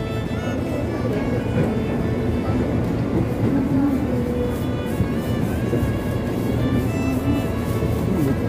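An Indonesian KRL commuter train rumbles steadily throughout near Tambun station, with a continuous low, dense roar and faint mechanical tones, loud and close as if heard from inside a carriage.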